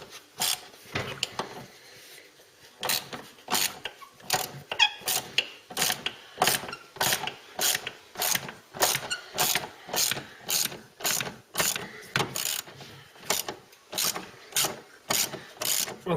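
A ratchet wrench worked back and forth on a stubborn bolt during a bulkhead inspection on a Mark 3 Ford Cortina, a close, crisp clicking in short regular bursts repeated steadily throughout with brief pauses between strokes.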